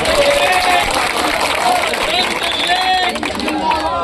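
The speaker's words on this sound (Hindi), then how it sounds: "हमें इनका तहे दिल से तालियों से स्वागत करना चाहिए" A crowd at an outdoor road-construction inauguration ceremony claps in a dense, continuous wash. Voices and murmuring mix in throughout.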